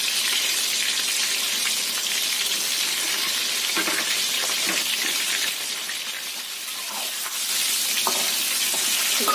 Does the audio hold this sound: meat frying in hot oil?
yes